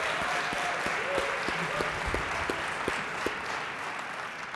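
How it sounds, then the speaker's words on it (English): Sustained audience applause at a conference fills the room, a dense, steady wash of many hands clapping at even loudness, with faint voices mixed beneath. "can we please give another round of applause to Tia and all the organizers who made this"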